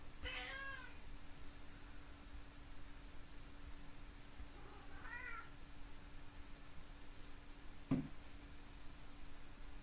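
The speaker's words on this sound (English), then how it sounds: "That is my cat saying hello." A house cat meows twice, first near the start and again around the middle, soft and fairly close over a steady electrical hum and a low hiss, with a faint click near the end.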